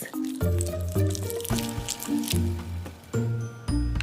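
A squishy toy shaped like a body part is squeezed until chunky, icy-cold blue filling oozes out, giving repeated wet squelching squishes over background music.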